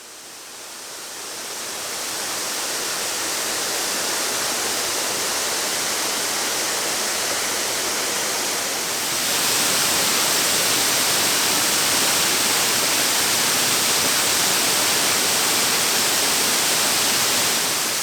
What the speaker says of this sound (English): this is actually a surprisingly beautiful waterfall